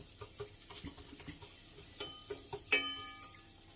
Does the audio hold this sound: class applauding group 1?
no